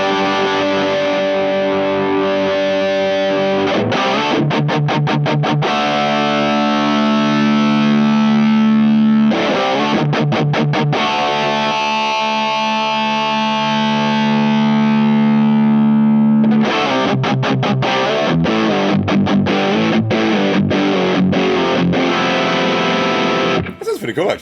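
Electric guitar run through a Caline Easy Driver overdrive pedal, loud and heavily distorted, with sustained chords broken by bursts of quick rhythmic strums, close and continuous throughout.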